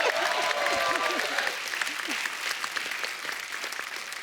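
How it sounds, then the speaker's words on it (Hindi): A studio audience at a TV comedy show bursts into loud, dense applause that gradually thins and fades, with a voice briefly heard over it. "एक बार जोरदार ताली हो जाए"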